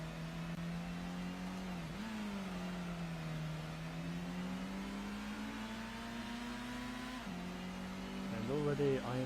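Race car engine in the video game Gran Turismo on the Grand Valley East circuit, a sustained droning note that rises and falls with throttle and shifts gear near the end, with someone talking over it.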